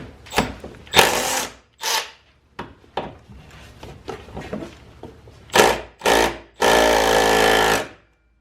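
A power tool tightens the shock absorber bolts on a BMW 435i F32 during a coilover install, sounding in several loud, close whirring bursts of varying length, with a long sustained run at the end and no talking.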